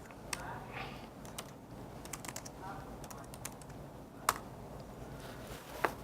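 Quiet bursts of close computer keyboard typing while writing a programming script, with scattered key clicks and a couple of sharper taps, over a low room hum.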